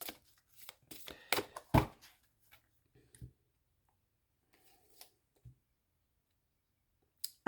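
Cards for a reading are shuffled in quick, crisp riffling bursts, then a few scattered soft clicks and taps follow with quiet gaps between them, close and faint.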